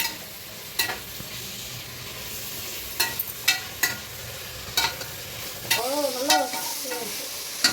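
Biryani masala of tomato and onion sizzles in a pan while being stirred, a low steady frying hiss broken by sharp metallic spoon scrapes and clinks at irregular intervals, with no talking.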